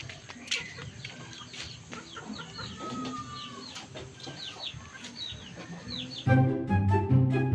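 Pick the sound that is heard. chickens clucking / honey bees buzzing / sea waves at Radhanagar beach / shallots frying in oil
chickens clucking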